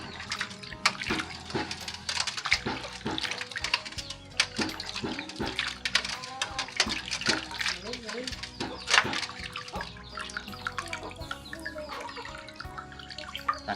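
Shellfish being washed by hand in water for a Thai shellfish salad, with close splashing, sloshing and dripping that pulses irregularly throughout while a voice talks over it.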